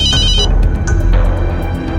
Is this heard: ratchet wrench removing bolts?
no